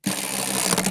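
A prize wheel spins with a dense, continuous rapid clicking that starts abruptly and stays loud and steady for under a second, with no voices.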